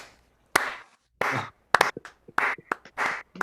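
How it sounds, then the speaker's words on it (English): A small online audience gives a round of applause during a lyric-writing session: a few separate bursts of clapping, close and uneven, with short silent gaps between them. "Can we give Bryan a round of applause?"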